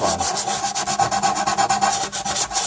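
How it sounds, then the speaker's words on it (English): Plain sandpaper rubbed by hand over wood on a boat being smoothed before glassing, giving a steady run of close, rhythmic rasping strokes, about two or three per second, with no talk. "I still got a bunch of stuff to do with the sandpaper. Plain old sandpaper."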